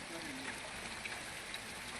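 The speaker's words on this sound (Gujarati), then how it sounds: "ખાંભા પંથકમાં અનરાધાર વરસાદ પડ્યો છે." Dense, even heavy rainfall rushes continuously in the Khambha area of Amreli district, Gujarat, a steady wash of rain with no voices.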